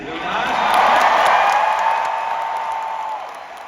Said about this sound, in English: by the sounds of the crowd, we have some fans here, do we not?